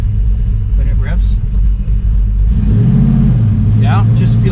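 A refreshed LS6 454 V8 in a 1968 Chevelle revs up from a steady rumble, its pitch rising and swelling loudly near the midpoint with faint voices speaking over the engine.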